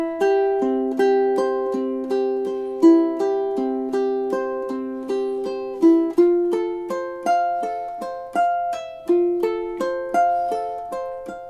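Bach's Prelude in C, measures 15 and 16, played on ukulele in classical style. Arpeggiated notes are picked one by one in a steady, even pattern, each note ringing clearly. The playing is close and alone, with no voices.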